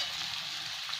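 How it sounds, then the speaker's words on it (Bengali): Vegetables and half a batch of chowmein dropped into hot oil in a pan for street-style chowmein, giving a loud, dense, continuous sizzle. "এখানে তেলও গরম হয়ে গেছে, এবার সবজি আর অর্ধেকটা চাউমিন আমি দিয়ে দিলাম ঢেলে পুরো।"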